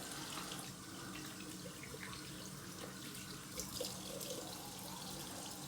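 Tap water running steadily into a sink for rinsing after a straight-razor shave, a soft continuous splashing hiss with faint drips, fairly quiet and close.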